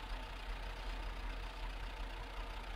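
A farm vehicle engine idles steadily in Farming Simulator 22, a low, even rumble with constant loudness and no talk over it.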